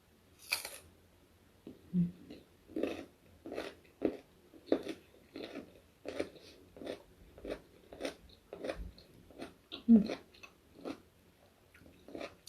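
Crunchy, sweet green mango being bitten and chewed close up, with a sharp bite followed by a steady series of crisp crunching chews spaced about half a second apart, quiet between them.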